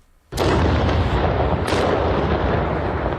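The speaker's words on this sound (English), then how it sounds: "the rattle of gunfire and sounds of explosions circled the prison" A sudden loud blast cuts in after a moment of quiet, followed by another heavy boom and continuous roaring, rumbling gunfire and explosions around a prison under attack.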